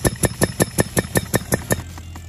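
A missile mole boring tool runs underground as it backs out of its hole, giving a rapid, steady train of sharp pulsed knocks at an even rhythm, fairly close.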